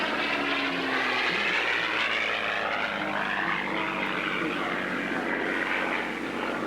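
A P-51 Mustang propeller fighter flying at a 1985 warbirds airshow in Madera, a loud, steady piston-engine drone with propeller roar throughout, slowly shifting in pitch as the plane passes.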